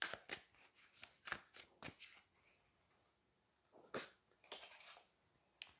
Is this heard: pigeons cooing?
no